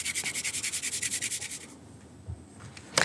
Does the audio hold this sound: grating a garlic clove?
yes